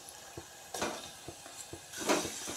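Garlic paste fries in a pan with a faint steady sizzle, while a few spoon taps and stirring scrapes come through close and clear for Bharli Vangi masala.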